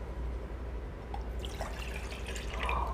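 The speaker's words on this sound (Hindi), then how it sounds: "पानी को बर्तन में डालूंगा" Around 150 to 200 ml of water is poured from a glass into a cooking pot, a soft trickling splash over a low hum with no talk.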